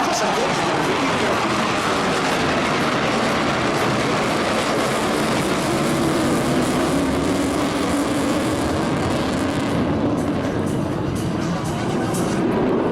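A Tornado jet performs a 360-degree roll at the Jesolo European Air Show, its engines producing a loud, steady broadband roar that holds throughout with a slight shift in tone near the end.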